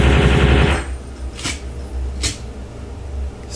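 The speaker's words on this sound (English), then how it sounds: "This is with a machine gun, so you don't have to, you can click individually, or you can just hold it down." Machine gun fire in a browser platform game demo, a fast rattling burst up front followed by two separate sharp shots, loud and close.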